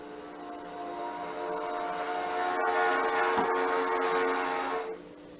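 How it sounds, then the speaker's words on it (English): A model train sound module on a small micro train shelf layout plays a demonstration train horn, a sustained multi-tone blast heard steadily for several seconds before cutting off, fairly quiet and alone. "I have a just a demonstration"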